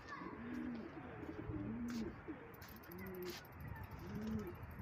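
Pigeons coo in a soft, repeating rhythm of rounded low calls, several birds close by in a quiet pigeon loft setting, with faint clicks and mechanical ticks in the background.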